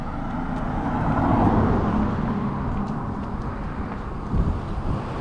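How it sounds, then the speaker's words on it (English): A Canberra city bus passes in traffic, a steady broadband roar of road and engine noise that swells slightly and then eases, with no voices. "There's an iconic Canberra bus."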